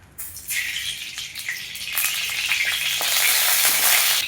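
Fenugreek, cumin and onion dropped into hot oil for prawn thokku, a sizzle that bursts up loudly after a quiet start and swells again midway into a dense, steady crackling hiss, close and without talk.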